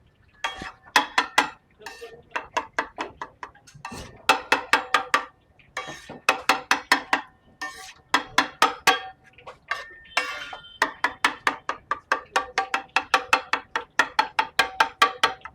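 Sharp knife blows chopping chicken for chicken bhurji, probably on a board, come in rapid rhythmic bursts of eight to twelve strokes with brief pauses, close and loud, with no talk.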